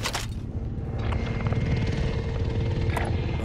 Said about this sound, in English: Attack chopper right above.